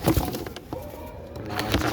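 Pigeons of an old domestic breed, including a silver bird, cooing in a loft, a few low throaty coos over a busy room background.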